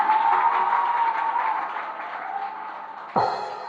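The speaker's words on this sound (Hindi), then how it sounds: "सभी तालियां बजाएं।" An audience at a Daslakshan festival stage play in Kailash Nagar breaks into sustained, fairly distant crowd applause that continues steadily and then thins out near the end.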